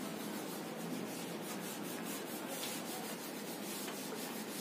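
Steady scratchy rubbing of a duster across a classroom board to wipe away written work, a continuous close abrasive swish with faint rhythmic strokes and no talking.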